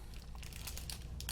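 The plastic bag packaging of a brass pocket fountain pen is handled up close, producing quiet, irregular crinkles and rustles with a few sharper crackles toward the end.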